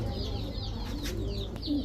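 Pigeons coo and murmur steadily at a bird market where fancy and racing pigeons are sold, the soft repeated calls layered over a constant crowded low hum.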